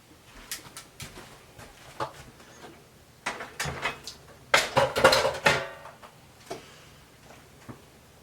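Glass canning jars of pepper jam being lifted out of an electric canner, giving scattered clinks and taps of glass on metal, with a busier cluster of clattering knocks toward the middle, fairly close.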